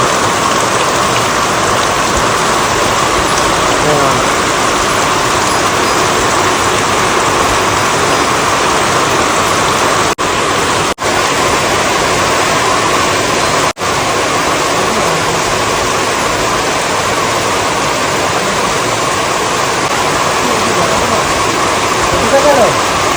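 Steady, heavy monsoon rain pours down without pause in a forest where wild elephants bathe, a dense loud hiss of water that fills the whole scene.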